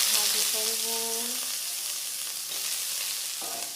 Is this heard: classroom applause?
no